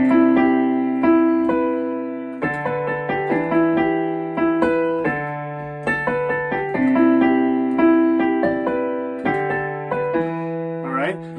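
A piano plays a simple melody, single notes stepping back and forth over sustained low bass notes, at a slow, even pace with no voices.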